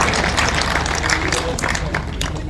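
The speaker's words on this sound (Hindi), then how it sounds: "जोरदार ताली बजाए।" An audience at a Bhagavat katha in Jaipur claps loudly, a dense, continuous burst of applause from a large crowd with a faint murmur underneath.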